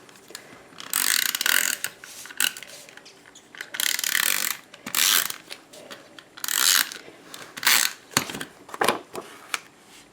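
Snail adhesive tape runner rolling glue onto paper for a card, a series of short ratcheting clicks and rasping strokes in separate bursts, close and fairly loud, with quiet pauses between.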